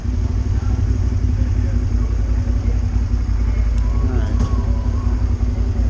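A motorcycle pulls away, its steady engine drone loud and close throughout with low rumble, near a store at night or in a parking lot.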